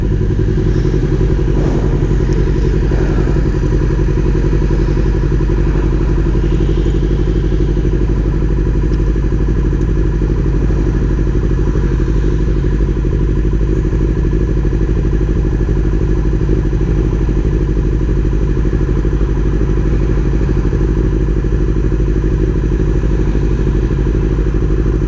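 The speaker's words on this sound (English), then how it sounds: "Tu motor dia." A motorcycle engine runs loud and close for the whole stretch, a steady low rumble with occasional clatter and thuds and no voices.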